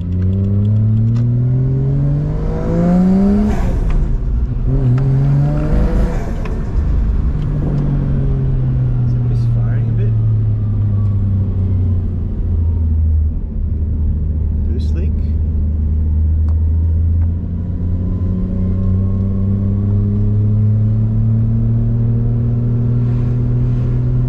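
Car with a Toyota 1JZ engine and a custom exhaust, driving without a front bar on back streets, revs up repeatedly with loud rising engine sweeps, then settles into a steady rumbling cruise. Talk is faintly heard along with it.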